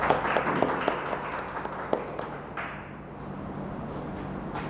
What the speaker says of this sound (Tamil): திரைபாரதி அவர்களை உங்கள் கரகோஷத்தோடு மேடைக்கு அழைக்கிறேன்.